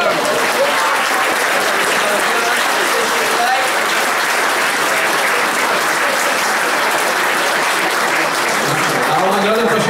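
A full hall applauds at a youth history award ceremony, with loud, continuous clapping for the whole stretch and a faint murmur of voices underneath.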